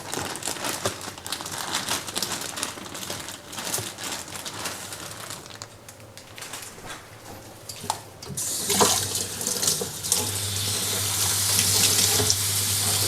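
Tap water runs over spring onions being washed in a kitchen sink, a continuous splashing stream with crinkly handling of the stalks that grows louder and fuller toward the end.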